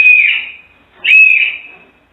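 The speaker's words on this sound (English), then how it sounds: "when you hear me blow the whistle twice like this," A tour guide's whistle blown twice, two loud, sustained shrill blasts close by, each lasting about three quarters of a second with a short pause between them.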